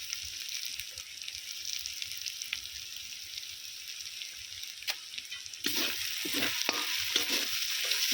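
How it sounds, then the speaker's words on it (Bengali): Spice paste sautéed with red chili and turmeric powder for a chicken curry, a steady sizzle under repeated spatula scrapes that grow louder and busier in the last few seconds, with no talk. "খুব ভালো করে আমি আবারও কষিয়ে নেব"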